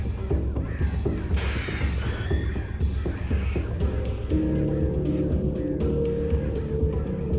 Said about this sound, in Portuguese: Corre que esses corvos não estão de brincadeira